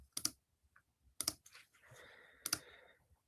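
Computer keyboard typing in three short bursts of clicks, with a faint rustle and low shuffling between them, close and fairly quiet with no voices.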